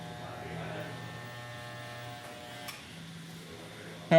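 Electric hair clippers buzz softly and steadily while cutting a crisp line-up at a barber shop, with a brief pause midway and a louder clatter at the very end.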